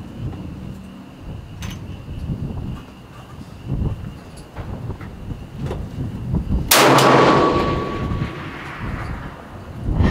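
A Yugo SKS rifle fires at steel targets 360 to 660 yards downrange: one loud, sharp shot cracks with a booming tail near the middle, a few fainter distant reports around it, and a low outdoor rumble underneath.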